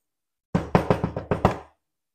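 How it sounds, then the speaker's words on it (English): Six quick, evenly spaced knocks on a door, sharp and close, standing alone against silence. "You heard the door knocking."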